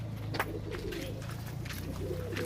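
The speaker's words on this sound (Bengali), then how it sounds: "এই দেখুন মালবাই পায়রা কেমন হয় দেখুন" Malbai pigeons cooing inside a loft, soft low repeated coos with faint rustling and a few brief background sounds, no speech.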